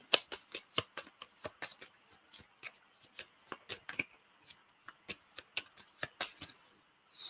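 A deck of cards shuffled by hand during a board game, a rapid run of crisp riffling clicks and flutters that comes close and fairly loud, with brief pauses between bursts.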